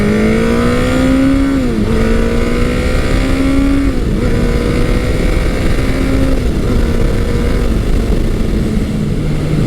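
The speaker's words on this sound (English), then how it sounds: "It just effortlessly accelerates. It's got such a great stock sound from the stock exhaust." A 1985 Kawasaki 900 Eliminator motorcycle accelerates hard through several gear changes on its stock exhaust, the loud engine note climbing, dipping at each shift and climbing again, steady and close throughout with no talking.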